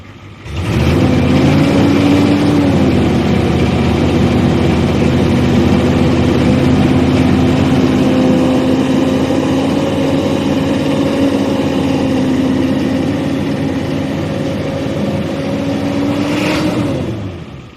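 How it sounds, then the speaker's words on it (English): A cold 1983 Ford 6.9 IDI diesel 4x4 truck engine runs close and loud, rising briefly in a light rev before settling into a steady, low clattering idle that drones for most of the clip, then fades near the end. "I'm gonna rev it up just a little bit."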